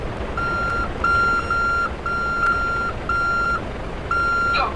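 Truck reversing beeper in the MTA Province driving game, a steady repeating electronic beep in evenly spaced pulses over a constant rumbling engine, loud and close, no voices.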